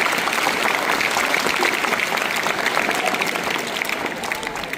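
A room full of students claps for their teacher at a school Teachers' Day celebration, a dense, steady round of applause that holds strong for nearly five seconds before easing slightly.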